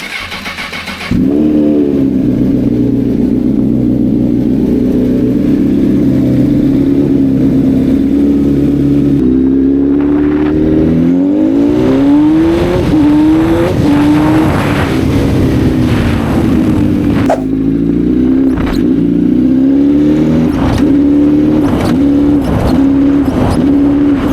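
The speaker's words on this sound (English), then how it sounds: "considering I have not test rode the bike yet, the first thing we're gonna do is take it for a quick test ride." A used motorcycle being test ridden, its engine loud and close, idling and then revving repeatedly through gear shifts, with rising and falling pitch sweeps, alone without talk.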